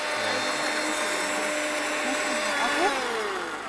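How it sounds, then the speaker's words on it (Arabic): Kitchen blender whirring steadily at low power while preparing an Iraqi dish with tomatoes and potatoes, a continuous motor drone with rising whine, close and fairly loud. "المفروض هو يضرب الخلاط. اوكي بس ظهر الخلاط مو قوي هذا."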